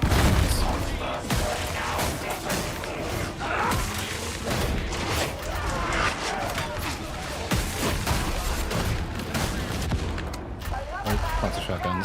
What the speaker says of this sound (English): Oh, lots of shotguns.